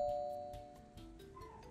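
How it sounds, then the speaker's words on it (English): A doorbell chimes in the horror game Elevator Zero, a clear two-tone electronic ding-dong ringing out over quiet, ending in a brief louder burst. "Doorbell."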